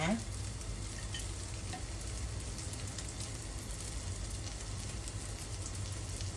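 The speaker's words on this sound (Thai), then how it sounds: "ทอดแบบหนาทอดแห้มๆเจ้าอร่อย ทอดใจเย็นๆ" A thick cha-om (acacia leaf) omelette frying in a pan gives a soft, even crackling sizzle, steady and fairly quiet throughout, no voices.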